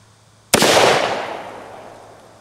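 A single sharp, loud shot from a Ruger Vaquero .45 Long Colt revolver, fired at a foam gun rest during a durability test, its crack followed by a long echoing decay.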